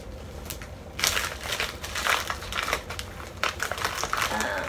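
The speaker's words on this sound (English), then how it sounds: "I'm gonna unwrap this for you guys." Crinkly plastic packaging around a waist trainer is pulled open, giving irregular bursts of crackling and crumpling at close range with no talking.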